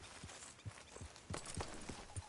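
Horse hooves clip-clop at a slow, steady walk in Red Dead Redemption 2, each step distinct and moderately close, with no talk over them.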